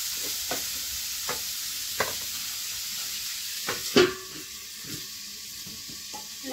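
Carrots frying in a pan, a soft continuous sizzle with occasional sharp stirring or utensil clicks, one louder knock near the middle, close and without talk.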